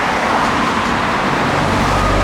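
Steady roar of road traffic rushing past close by a narrow roadside walkway along Embankment Road in Plymouth, a dense continuous wash of engine and tyre noise with no pauses.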